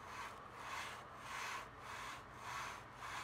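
Plastic BlueFire Combaterwing gaming mouse dragged back and forth over a mouse pad, a soft rhythmic scraping rub in about five even strokes, close and faint with no talk.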